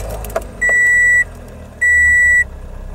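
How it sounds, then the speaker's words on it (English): A car's engine runs with a low, steady rumble after its 12V battery cables were disconnected and reconnected, while two long, loud electronic warning beeps sound one after the other over it. "let's start up the car, see what happens"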